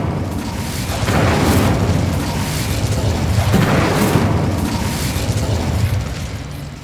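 An Incendio fire spell erupts in Hogwarts Legacy as a sustained roaring, booming whoosh of flame that swells and holds for several seconds, loud and close, with no talk over it.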